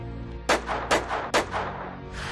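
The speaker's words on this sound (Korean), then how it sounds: "하얼빈역에 울려 퍼진 세 발의 총성" Three sharp gunshots ring out as a sound effect for a historic 1909 shooting at Harbin Station, each a loud crack with a short echoing tail, spaced roughly half a second apart, with no voices.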